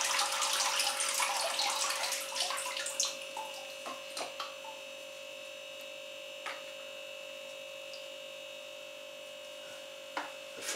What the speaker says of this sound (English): You see how quick the water is running through, so these will never get soggy.